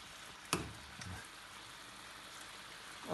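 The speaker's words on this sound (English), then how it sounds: "Just bring this up to the boil now." Liquid in a small dish heats toward the boil on a stove, giving a steady, close hiss of bubbling and sizzling with a soft clink early on and no voices.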